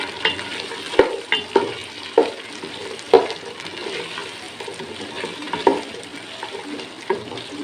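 Carrots frying in hot ghee while being stirred, with distinct scraping clanks of the spoon against the pan recurring over a continuous moderate sizzle.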